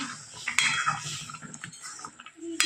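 A spoon scrapes and clinks against a metal pan in quick irregular strokes, close by, with a sharp clatter near the end, stirring green tomato curry after hot water is added.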